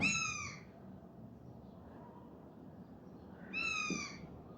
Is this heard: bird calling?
yes